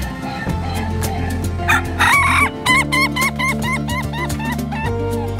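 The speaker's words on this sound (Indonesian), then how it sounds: "suara kokokan yang khas mirip dengan suara tawa manusia" An Ayam Ketawa laughing chicken rooster gives a long, stuttering crow with rapid repeated hiccuping notes that sound almost like laughter, close and loud over a low background hum.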